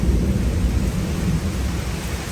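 Thunder rumbles through a summer thunderstorm, a continuous deep low roll with hissing rain-like noise on top, steady and fairly loud without any voices.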